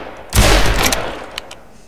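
A short burst of gunfire in the video game Garry's Mod gives one loud crack and a rapid rattle. It fades within about a second, and a couple of faint clicks follow.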